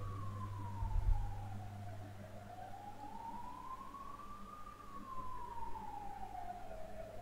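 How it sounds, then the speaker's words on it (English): An ambulance siren wails in slow rising and falling sweeps, faint and distant under a low steady hum, with one short louder thump near the start. "The ambulance is definitely coming from my position."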